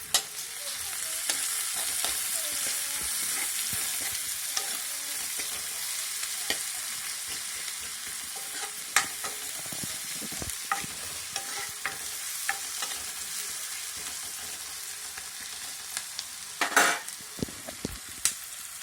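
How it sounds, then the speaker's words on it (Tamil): Onions sizzle steadily in a hot pan until translucent, with occasional scraping clicks of stirring and no talking. "வெங்காயம் நல்லா கண்ணாடி பதத்துக்கு வதங்கி வரணும்"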